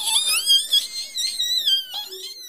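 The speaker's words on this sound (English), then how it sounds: "My bird is the white-breasted nuthatch, and it sounds like this." A white-breasted nuthatch gives a series of nasal, whistle-like calls, clear and close, with one bending note running into the next and no other sound beneath them.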